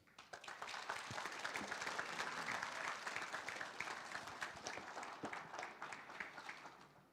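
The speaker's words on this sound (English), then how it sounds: "Let us give a round of applause of this great moment again." Audience applause at a centennial celebration, a sustained wash of many hands clapping that rises quickly, holds steady and then slowly thins out, heard from a distance and fairly faint.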